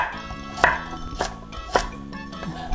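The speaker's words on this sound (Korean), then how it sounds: "당근도 굵은 채 썰어놨고요" A knife chops thick julienne strips of carrot on a cutting board for a Korean seafood jjamppong soup, four sharp evenly spaced cuts ringing out close and clear with no talking.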